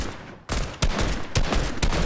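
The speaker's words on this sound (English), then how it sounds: "Oh, they're shooting over there." Bursts of gunfire from rival squads fighting in the video game Fortnite: four or five loud broadband volleys in rapid succession over about two seconds, heard without talk.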